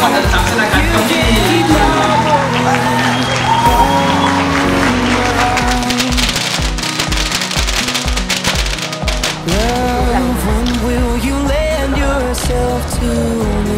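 Guests at a wedding banquet in Kaohsiung break into sustained, dense clapping and cheering that carries on for many seconds, blended with loud music playing throughout the hall.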